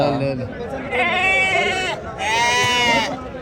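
Sheep and rams bleat loudly and close at a busy Saturday livestock market, two long wavering calls back to back, with someone talking throughout.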